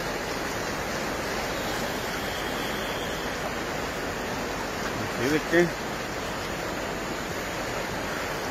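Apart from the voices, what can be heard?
swollen river rushing after heavy rains in El Salvador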